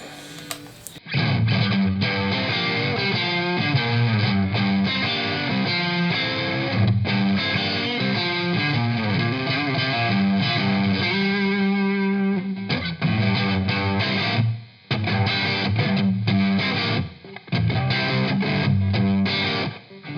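A Stratocaster through a Wampler Plexi Drive Mini overdrive pedal plays continuous chords and riffs with a thick, gritty Marshall-style tone, loud and sustained with a few brief pauses.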